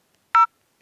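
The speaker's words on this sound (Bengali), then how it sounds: "এটা আমি ডায়াল করলাম" Phone keypad dialing tones as a USSD code is entered on a mobile handset: one short clear beep, then a pause, and a second tone starting at the very end, close and alone with no talk.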